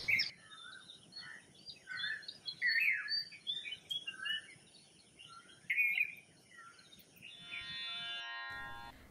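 Grey-headed myna calling near a window, a run of chattering chirps and short notes at moderate distance, with a steady insect-like buzz toward the end.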